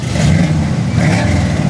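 A 1975 Corvette with a 4-speed gearbox rumbles on a test drive, a brief, close, low engine burble with a slightly uneven throb.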